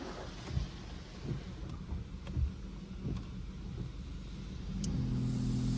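Pre-soak sprayed onto a car at a car wash, a steady broad hiss and rumble of spray with low machinery hum, growing slightly louder and denser toward the end, no talking.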